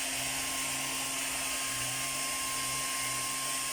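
A hair dryer blows hair dry during a rebonding treatment, a steady whining motor hum with broadband air rush heard up close and unbroken throughout, with no talking.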